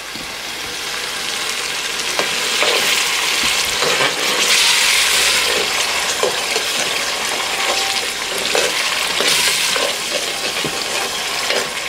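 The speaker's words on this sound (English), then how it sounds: "I'm going to add the tomato paste and let everything fry" Tomato paste frying for jollof rice gives a steady, dense sizzling hiss close up, broken by light clatters of stirring and no voices.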